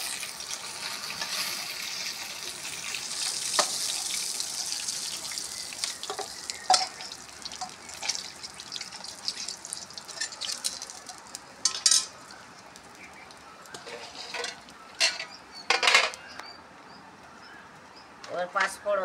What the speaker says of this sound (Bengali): এবার আমি মাছের মাথাটা ভেজে তুলে নেব।